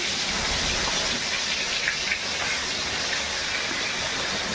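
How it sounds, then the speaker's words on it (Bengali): Poa or bhola fish fry in hot oil in a pan during monsoon rain, making a dense, steady, close hiss that stays even throughout. "মাছটা ছেড়ে দিলাম তেলের মধ্যে।"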